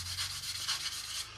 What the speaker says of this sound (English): we're just going to take quite a fine sanding stick, nothing over the top because we don't want to dig in too deep